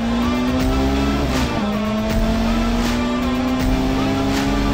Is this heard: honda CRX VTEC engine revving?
yes